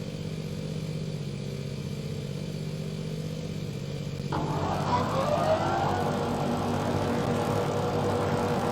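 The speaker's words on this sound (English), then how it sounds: "this new zero turn is taking those shrubs down like it ain't nobody's business" A zero turn mower engine in a farming video game hums at a steady idle, then revs up sharply partway through and keeps running louder as it cuts down shrubs.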